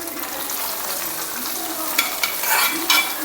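Ingredients crackling in a hot pan while jackfruit payasam is being prepared, a steady close sizzle with sharper pops and crackles bursting out toward the end, loud and with no talking.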